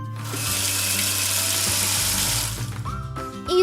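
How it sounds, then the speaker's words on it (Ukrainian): A kitchen sink tap hisses and then bursts into a strong, steady gush of cold water for about two seconds before trailing off into other sounds. The sound is loud and close, with no voices. "Кран зашипів, а потім з нього як вирвався потужний струмінь води."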